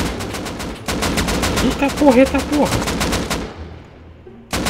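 Rapid automatic gunfire in the survival game Rust, loud, sustained bursts of closely spaced shots that cut off abruptly, with a man exclaiming over the shooting.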